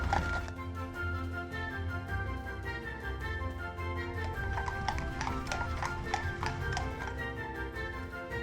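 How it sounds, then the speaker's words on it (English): Hooves of a horse pulling a carriage clip-clop in a steady rhythm as it approaches through a historic city garden setting, the clatter growing clearer over a constant background hum. "Carriage coming right."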